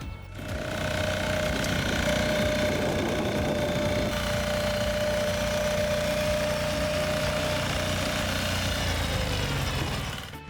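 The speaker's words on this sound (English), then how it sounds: "our little blue tractor is still in full power" A small blue tractor's engine runs steadily in a field, a continuous mid-pitched drone with a faint whine on top, holding even and fairly close throughout with no talk.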